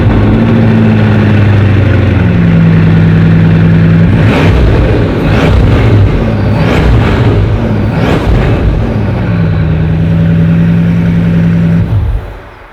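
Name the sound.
Bugatti Divo W16 engine starting and revving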